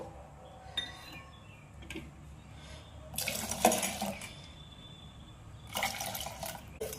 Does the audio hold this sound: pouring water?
yes